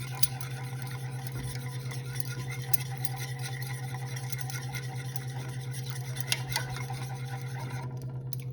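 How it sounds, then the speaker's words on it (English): A spoon or whisk scrapes and rubs steadily around a pot of mushroom soup, a quiet, continuous rasping over a low steady hum. "I'm gonna continue stirring these because it's not done yet"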